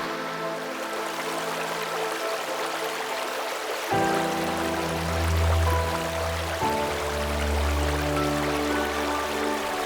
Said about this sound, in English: here the water flows much slower over submerged branches